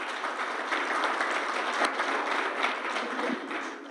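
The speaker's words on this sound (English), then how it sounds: "Round of applause here." An audience at a museum evening talk on Rosenwald schools and Black education claps warmly, a steady even patter of many hands at moderate volume throughout.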